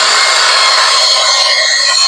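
An air blower roars continuously at close range, a loud steady rushing whoosh drying cleaned Honda Click 125 CVT parts.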